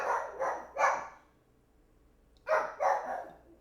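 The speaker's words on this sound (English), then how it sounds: "The dog's going crazy." A dog barks indoors in two loud, close bursts of about three sharp barks each, separated by a quiet pause of over a second.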